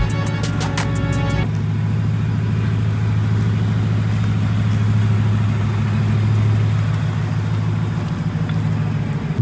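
A Ford Raptor truck engine idles with a steady, deep low rumble that holds throughout, close and loud, with a brief higher-pitched tonal sound at the very start.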